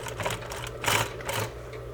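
Sewing machine stitching a half-inch French seam, a rapid mechanical whir in several short bursts with brief pauses between, close and fairly quiet.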